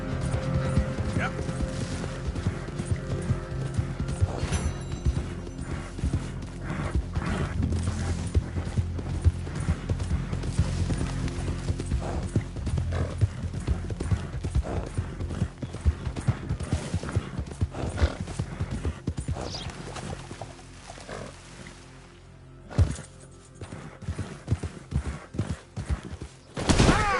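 Horse hooves pound steadily in a fast gallop in the video game Red Dead Redemption 2, a dense continuous clip-clop close up under game ambience, thinning out near the end.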